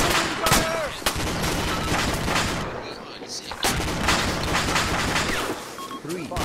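Gunfire fills a tactical shooter video game firefight with repeated sharp shots and rattling bursts, close and loud, as a voice talks underneath.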